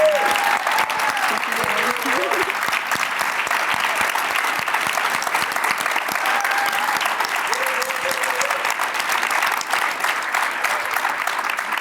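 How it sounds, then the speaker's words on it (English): An audience at a student supports institute on school climate applauds the student presenters, with steady, dense clapping held at an even level throughout and faint voices briefly over it. "So let's give the students a round of applause."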